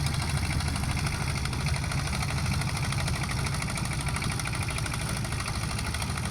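Boat engine running on the Brahmaputra river, a steady low droning rumble with constant vibration, close and unbroken for the whole stretch.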